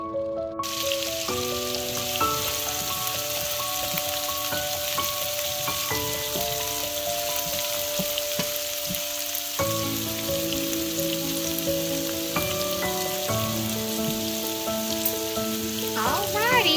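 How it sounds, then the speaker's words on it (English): Oxtails with cabbage, carrots and onion cook in a pan with added water, giving a constant frying hiss that stays under louder background music throughout. "I went on and added water, so this is going to steam down"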